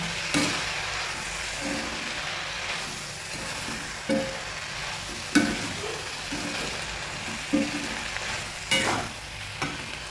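Grated coconut is stirred into chilli thoran in a hot pan: a continuous low sizzle broken by scraping strokes and several sharp clacks of the spoon against the pan.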